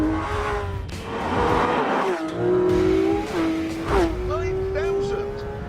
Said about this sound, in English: There's no turbocharging, it's just a 4-litre flat 6, but you get 500 horsepower and it's redlined at